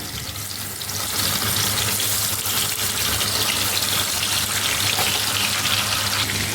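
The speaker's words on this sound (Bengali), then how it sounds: "এখন দিয়ে দেবো মাছ তো আমি এক এক করে মাছগুলো সব দিয়ে দেবো দিয়ে খুব ভালোভাবে ভেজে নেবো" Katla fish pieces dropped into hot mustard oil: after a quieter second a loud, dense sizzle surges up and holds steady, close by, with no talk.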